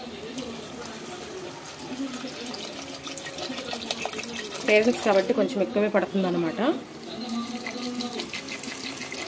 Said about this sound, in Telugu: చక్కగా వాటర్ అయితే వేసేసుకుందాం